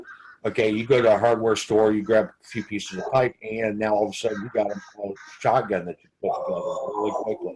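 Pet birds caw loudly and repeatedly in a household while someone speaks close by, with the harsh calls rising clearly near the end.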